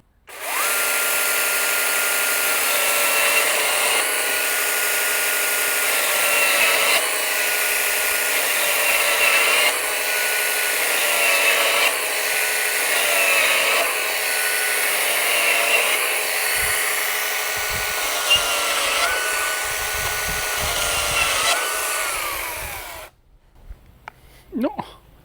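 A DeWalt battery chainsaw with a 30 cm bar runs at a loud, high steady whine while cutting wood for about 23 seconds, then stops abruptly, leaving faint handling noises.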